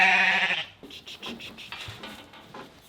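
A sheep bleats loudly and close by during pregnancy scanning in a handling crush, one long wavering cry followed by quieter clattering and shuffling of livestock.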